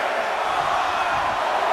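A steady, loud crowd roar from an arena in the wrestling game WWE 2K24 during a Royal Rumble match, sustained and even throughout with no breaks, as the crowd is fired up by Austin.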